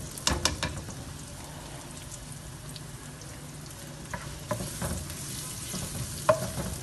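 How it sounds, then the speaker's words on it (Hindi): Chopped onion sizzling and frying in about four tablespoons of hot oil in a pan, with a steady crackling hiss and occasional louder spits and stirring scrapes, close up and without speech. "और ये जो हमारा ऑयल गर्म हो रहा है, अब हम इसमें डाल देंगे प्याज।"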